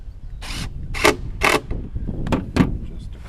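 Screws are driven into the wooden lid of a swarm trap in several short bursts of grinding, ratcheting noise, about five close buzzy spurts separated by brief pauses.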